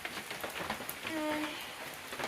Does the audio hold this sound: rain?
yes